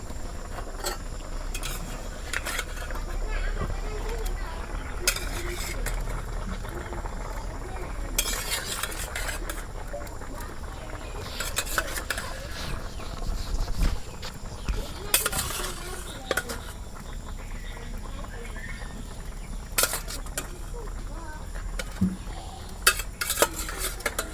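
Fried pangas fish goes into a vegetable curry of aubergine and potato in a pot, with repeated metal spoon scrapes and clinks against the pot over a soft background sizzle, close and intermittent.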